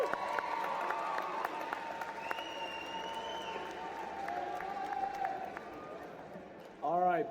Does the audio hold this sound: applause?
yes